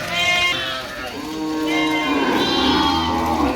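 A cow on a village farm lets out two long, loud moos close by, one after the other with a short gap between them.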